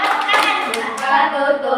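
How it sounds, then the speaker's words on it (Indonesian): Group of children clapping hands during a song, a few close, sharp claps mixed with singing voices. "Buka tutup, bertepuk tangan"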